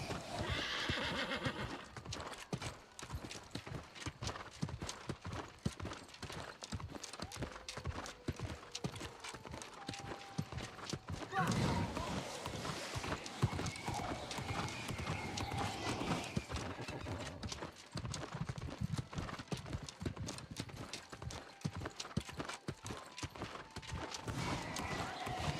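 A horse in the New World game gallops with rapid, continuous clip-clop hoofbeats throughout, with whinnies and neighs rising over the steady running rhythm, loud and close.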